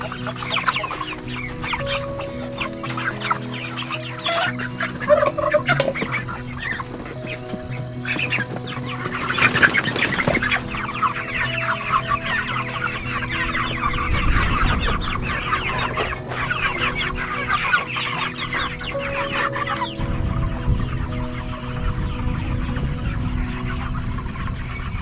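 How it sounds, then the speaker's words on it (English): Meat chickens cluck steadily in a coop, with wings flapping in bursts and a busy, close flock sound that carries on without a break. "These meat chickens are going in."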